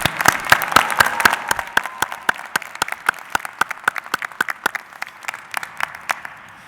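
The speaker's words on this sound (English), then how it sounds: "Let's do another round of applause because that was a lot of fun." A commencement audience applauds in a sparse, moderately close round, with distinct individual claps that thin out into scattered, rhythmic hand claps.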